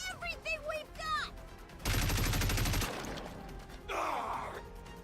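Rapid gunfire from the Nikke video game rattles in a dense, loud burst of about a second, after character voices and gasps, with another noisy blast near the end.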